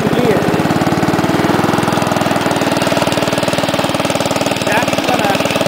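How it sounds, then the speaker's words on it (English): A Wheel Horse A-800 Ranger garden tractor engine runs close by with a steady rapid chugging putter and rough knocking vibration throughout, with voices talking over it. "Obviously you don't like the sound of the tractor."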